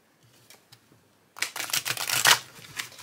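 A few soft taps, then a quick burst of rapid, crisp flutters as a deck of oracle cards riffles together, loud and close.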